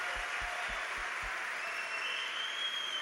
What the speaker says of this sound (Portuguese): um aplauso pro Júnior, gente.